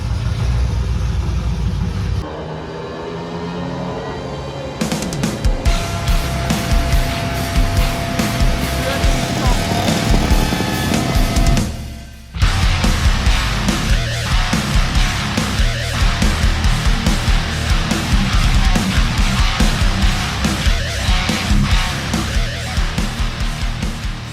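A stock Subaru STI engine runs steadily and sounds a little rough, with a loud, uneven idle. A brief dropout comes around halfway, then the same rhythmic running resumes.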